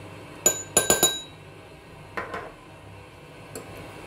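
Glass and metal clinks as salad ingredients are mixed in a bowl, a quick cluster of sharp chinks followed by a few softer taps, close and alone with no talk.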